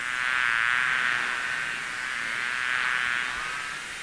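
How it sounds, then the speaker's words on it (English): A steady, dense buzz of bees hums continuously at close range, swelling and fading slightly, with no other sounds. "Bees."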